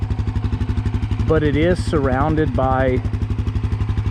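Steady idling thump of a Honda CRF250F dirt bike with its stock exhaust, quiet and even in a wooded area, running continuously beneath a voice.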